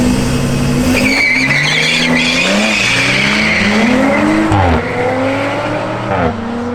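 Race cars in a bracket race at Killarney rev loudly, engine tones rising and falling with gear changes, close and sustained with tyre noise and no talk.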